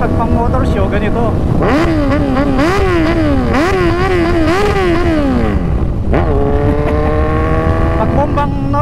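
Lamborghini engine revved hard in motor-show style, with repeated rising and falling blips building to a high wail, then dropping and flaring up again; loud and close with a constant roar underneath.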